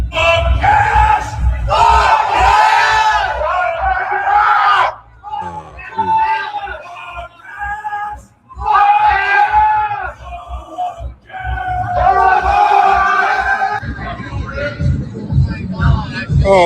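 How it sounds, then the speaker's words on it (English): A crowd of protesters cheers and chants together in loud, rhythmic waves of shouting and yelling, with brief lulls between bursts, close up and dense. "Look at all these people. They're cheering us on."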